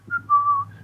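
A whistle call like the Friendly Giant's whistle: a short high note, then a longer sustained tone that dips slightly and a faint final note, clear and close over a low hum.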